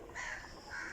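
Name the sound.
crows cawing while eating pieces of roti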